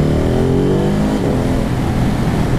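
A Ducati Hypermotard 950 SP motorcycle engine pulls hard under acceleration on the road, a loud, continuous close-up roar with its pitch rising, and no talk over it.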